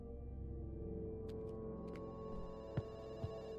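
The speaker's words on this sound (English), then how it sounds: "The phone would be ringing." A telephone rings in the game The Works Of Mercy, a sustained electronic ringing tone layered over a droning background, with a couple of brief sharp clicks near the end.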